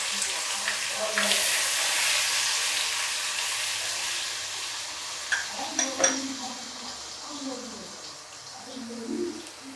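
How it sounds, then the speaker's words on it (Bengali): Onion paste is added to hot oil and fries with a broad hissing sizzle that gradually softens, with a few utensil clinks and voices murmuring faintly in the background. "এই তেলের মধ্যে দিয়ে দিচ্ছি এখন পেঁয়াজ বাটা"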